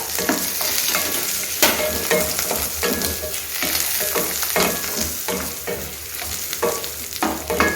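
Cinnamon, cloves, cashews and poppy seeds frying in a pan for a jackfruit kuruma, a steady close sizzle with repeated scraping stirs throughout.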